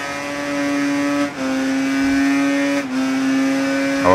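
Tuned racing motorcycle engine in Ride 3 holds a loud, steady high-revving whine, with two brief dips as gears shift and a rising rev at the end, running alone without talk.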